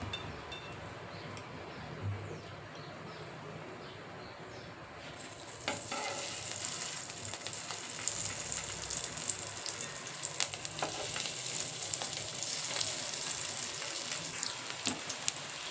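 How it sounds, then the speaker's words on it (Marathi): Bitter gourds fry in hot oil over a medium flame for bharli karli: a steady, close sizzling and crackling that grows louder partway through as more gourds go into the pan, with no talking. "आता मी गॅस मीडियम करते आणि आपण याच्यामध्ये एक एक अशी कारली ठेवून देणार आहे फ्राय होण्यासाठी."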